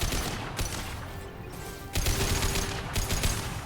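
A high-impact gunshot in the video game Mass Effect 2 cracks out amid dense combat noise, with sharp bursts near the start and again around the middle, layered over continuous rumbling battle ambience and no talk.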